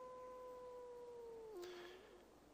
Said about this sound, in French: il y a un loup